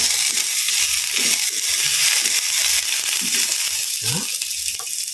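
Onions sizzle in hot oil alongside marinated meat, a loud, steady, close frying hiss with occasional stirring scrapes and a faint murmur of talk underneath.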